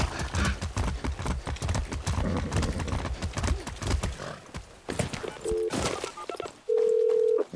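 Horse hooves clip-clop steadily in Far Cry 6, a close, regular walking rhythm with a brief pause near the end, followed by short electronic tones.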